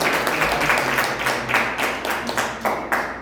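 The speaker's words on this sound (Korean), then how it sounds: "다시 감사의 박수 올립니다" A church congregation claps in thanks, a burst of hand claps with uneven rhythmic pulses that gradually thins out.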